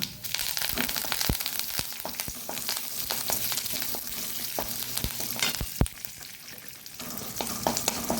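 Chana dal, urad dal and curry leaves sizzle and crackle in hot oil in a pan on low heat, a steady close frying hiss broken by sharp pops and spatters, with no voices.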